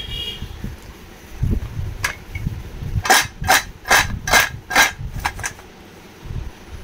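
A crunchy bakery-style toast biscuit snaps and crackles as it is broken by hand, a run of sharp close crunches in quick succession over a quiet kitchen background.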